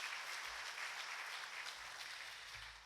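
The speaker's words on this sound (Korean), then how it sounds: "우리 성가대 위해서 박수 한번 할까요?" A church congregation claps for its choir in a steady, dense round of applause that fades slightly toward the end, with no talking over it.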